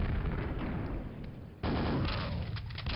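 Gunfire from a weapon in the Quake video game, fired at a wall button: a dense, loud burst of shots that drops briefly, then a second sustained volley with no voices.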